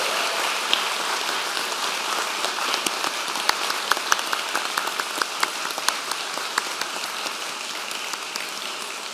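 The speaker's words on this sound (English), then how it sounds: "please join me by standing and giving a round of applause to our family and friends" Dense, sustained applause from a large crowd at a College of Medicine commencement ceremony, steady claps like heavy rain with sharper individual claps standing out throughout, no talking.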